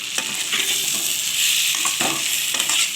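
Potatoes fry in a pan with chicken and poppy seed, giving a close, steady hiss and sizzle. A spoon stirs and scrapes through it in repeated short strokes, with no voices.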